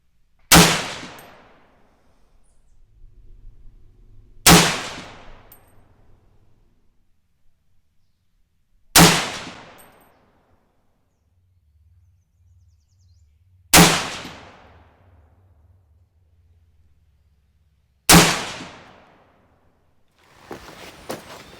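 Five loud, sharp rifle shots from a SOCOM16 firing Sig Sauer Match .308 open tip match ammunition, spaced about four to five seconds apart outdoors, each cracking hard and then fading, with faint rustling between shots.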